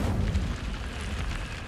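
A fiery Incendio spell cast in the video game Hogwarts Legacy, a loud continuous whooshing, rumbling burst of flame with heavy low-end roar that holds steady for under two seconds, with no talking.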